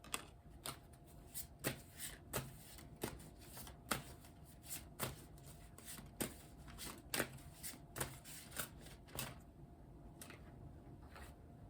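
Cards shuffled for a card reading, a long run of crisp, rhythmic riffling snaps repeating roughly every half second, close and clear with no talk.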